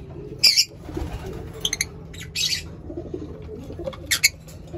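A pet lovebird hen in a breeding box setup gives several short, bright chirping calls in separate bursts over a low background rustle, with a little wing or body movement between calls.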